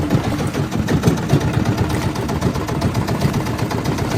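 An engine running steadily at close range, a loud, even low rumble with a fast pulsing throb and no pauses.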